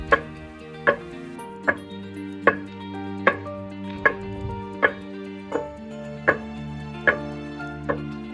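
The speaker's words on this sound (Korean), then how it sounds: "절구 찢는 모습이 마치 한국의 옛날 모습을 떠오르게 하네요" Food is pounded in a wooden mortar in Ghana, with about a dozen evenly spaced heavy thuds landing roughly once a second over steady background music.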